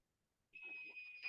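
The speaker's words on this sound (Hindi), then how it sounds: "मल्टीमीटर की बीप सुनाई दे रही है सबको" A digital multimeter's continuity beep while probing a mobile phone coil, a steady high electronic tone starting after a brief silence and holding to the end, close and clear, with faint handling noise beneath.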